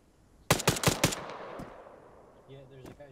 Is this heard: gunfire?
yes